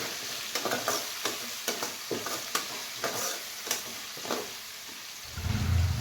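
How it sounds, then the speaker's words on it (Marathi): Garlic ginger paste with onion fries in oil for veg pulao, a loud continuous sizzle punctuated by regular scraping stirs of a spatula, about a dozen strokes, then a low rumble at the end. "लसूण अद्रकची पेस्ट, जरा चांगलं गोल्डन होईपर्यंत ठेवू आपण"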